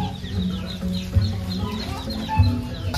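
Chickens on a poultry farm cluck in a steady, busy chorus of short calls, close and moderately loud with no talk.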